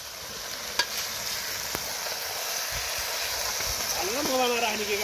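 Meat frying in a pan beside a river on a fishing outing, giving a steady loud sizzle and hiss throughout, with occasional scraping stirs and a voice heard briefly near the end.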